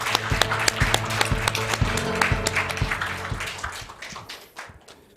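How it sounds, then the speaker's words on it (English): An audience at a learning event in Seoul welcomes a speaker with a short burst of applause, the claps loud at first and then thinning and fading over about five seconds. "Please welcome him with big round of applause."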